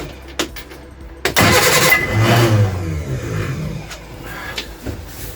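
A Reliant Supervan engine is cranked over on a very cold day, with a short click and then a loud, sustained grinding churn of the starter as the engine turns but does not fire, close up with no talking.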